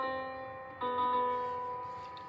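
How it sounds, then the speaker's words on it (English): A sustained musical tone steps down a half step, two clear held pitches in a row, the second slightly stronger, played alone without speech. "Going a half step down sounds like this."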